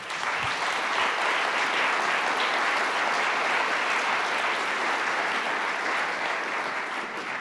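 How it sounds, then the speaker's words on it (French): Audience applauding the participants at an energy-transition panel event, a steady, dense wash of clapping sustained throughout with no voices over it. "Je vous propose de les applaudir."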